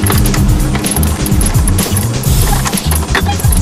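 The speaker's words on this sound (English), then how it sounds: "I loosen the wheels up before they come off the ground" A wrench ratchets and clanks on a car's wheel lug nuts, loosening them before the car is jacked up, in a busy run of metallic clicks and rattles close by.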